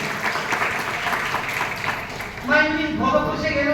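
A church congregation claps loudly for about two seconds, a dense close patter that gives way to a voice speaking.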